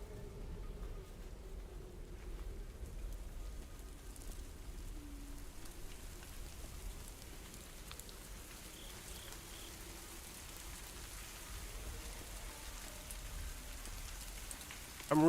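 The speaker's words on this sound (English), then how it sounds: "It's raining." Steady rain falling in the video game Herdling, a continuous soft patter throughout with a faint bump at the very end.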